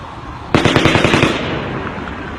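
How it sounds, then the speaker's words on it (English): A rapid volley of about eight loud rifle shots in quick rhythm, each crack echoing, followed by a fading reverberant tail, from the Las Vegas October 1 shooting. "The gunshot sounds are very clear"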